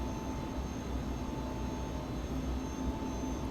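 Legacy 650 business jet in the X-Plane 11 flight simulator, flaps extending on approach: a steady, loud broadband rush of engine and airflow with a faint tonal whine, continuous and unchanging throughout, no voices.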